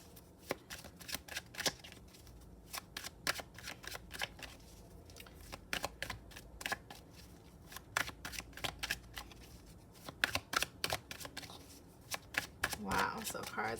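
Tarot cards being shuffled by hand, a run of crisp riffling flicks and slaps close up with steady rhythm, a voice speaking quietly beneath at times.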